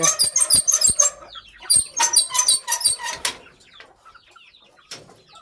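Guinea fowl and chickens call in rapid, harsh clucking bursts close by, a noisy flock chattering in quick repeated cries before trailing off.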